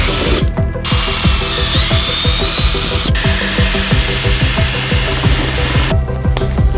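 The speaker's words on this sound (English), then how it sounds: "Drilling the side holes here." A power drill whirs steadily and loudly, drilling holes in a car spoiler on a 2023 Kia Stinger, with rapid ratcheting clicks throughout and brief pauses as the bit bites in.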